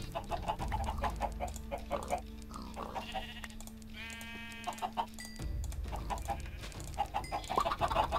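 Minecraft chickens cluck repeatedly alongside sheep bleats in the game, close and fairly loud in short bursts over a low droning background, with no talking.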